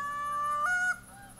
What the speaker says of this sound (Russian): идет стая гусей.